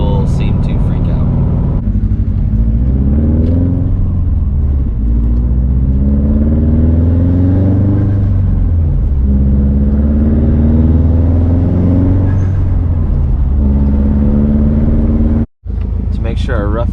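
A Subaru WRX STi with a Tomei straight-pipe exhaust drives through city streets, its loud, raspy engine rising and falling through repeated revs and shifts from close by, ending in a brief cut.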